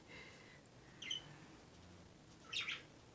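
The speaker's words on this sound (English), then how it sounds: "Birds. I still have them covered up, but they can hear me." Two brief bursts of bird chirping break through a quiet, faint background, one short call and then a slightly longer twittering a moment later.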